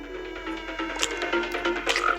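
A frog croaks repeatedly in a Minecraft-style video game, with several close, fairly loud croaks coming in an uneven rhythm over a low steady game background.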